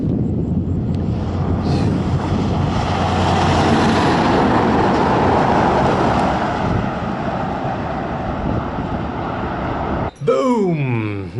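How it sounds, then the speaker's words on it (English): A vehicle roars past on an outback road between Airlie Beach and Alice Springs, a loud, close rumble swelling and fading over heavy wind noise, with a short burst of sound at the very end. "here's the first vehicle since I've stopped"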